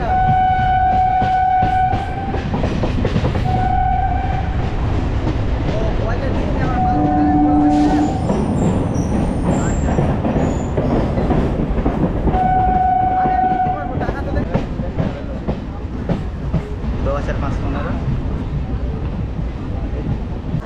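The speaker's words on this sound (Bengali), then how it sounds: "বন্ধুরা এখন ট্রেন এসে ঢুকেছে টালা স্টেশনে" A Majerhat–Barasat local train pulls into Tala station in Kolkata, with a loud rolling rumble of carriages, several long horn blasts at intervals, and a hiss of air brakes near the end.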